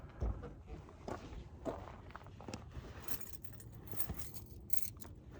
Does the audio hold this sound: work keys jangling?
yes